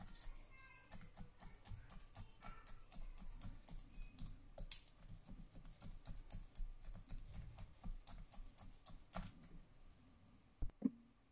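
Felting needles tapping wool packed inside a cookie cutter, a quiet, steady rapid patter of light pokes continuing throughout, with a couple of louder knocks near the end.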